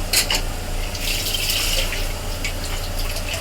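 Water is poured into a pot of mutton curry, giving a continuous splashing gush with bursts of spatter over a low cooking hum.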